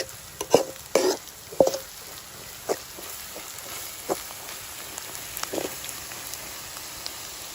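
Onions sauté with salt in a pan for Kerala-style meen pollichathu, heard as scattered spoon scrapes and stirring clacks, loud at first and then quieter and sparser over a soft background hiss.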